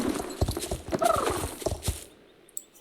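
Galloping hooves in a horse-riding video game drum fast and close for about two seconds, a whinny rising in the middle, before the sound drops to near silence with one faint click.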